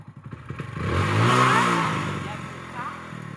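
A motorcycle engine revs after a kick start, swelling to a loud, rising roar that then eases off over about three seconds. People talk around it.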